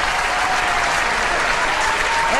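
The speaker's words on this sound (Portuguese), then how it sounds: "Cadê as palmas, gente?" Dense, steady audience applause at a live music show, many hands clapping at once in a continuous loud wash with no voices standing out.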